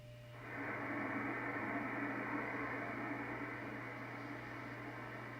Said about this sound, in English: I'm hearing some kind of white noise